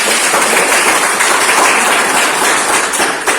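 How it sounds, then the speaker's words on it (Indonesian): A class applauds in a classroom, a loud, dense burst of many hands clapping close by, sustained evenly for a few seconds with no talk. "mari kita tepuk tangan"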